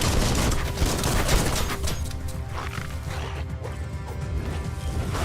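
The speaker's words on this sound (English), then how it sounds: "Bomper Bonker's busy ram-banging the door" Repeated heavy impacts of a battering ram slamming against a door in the video game Biomutant, a dense run of loud crashing thuds with clanging, mechanical overtones that continues steadily throughout.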